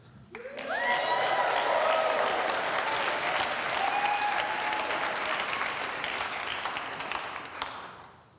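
A studio audience at a comedy talk show claps for an introduced guest, a full burst of applause building quickly, holding steady and then tapering off, with some cheers mixed in.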